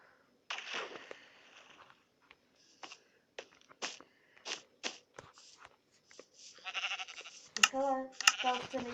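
Sheep bleating in the Minecraft video game, a few short bleats toward the end amid scattered clicks and taps, with people talking throughout.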